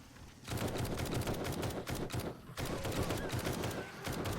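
Rapid bursts of grenade blasts and gunfire-like cracks go off in quick succession in the zombie survival game 7 Days to Die, loud and dense with a brief gap midway.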